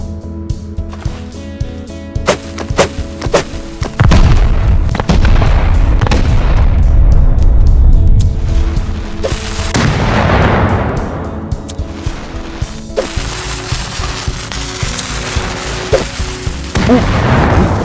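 In the Rust video game, bean can grenades blow open a door with several loud, booming blasts. Each is followed by a rumbling decay, and quieter clicks and thuds fall between them.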